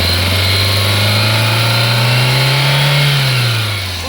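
A 2007 Maruti Suzuki Zen Estilo car engine revs up loud and close, its drone climbing steadily in pitch before easing back near the end, with no talking.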